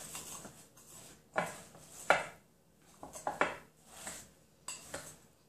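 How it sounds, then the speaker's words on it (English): Sticky green marshmallow mixture with shredded wheat biscuit being stirred in a bowl, heard as several separate spoon knocks and scrapes against the dish with quiet gaps between them. "just start stirring"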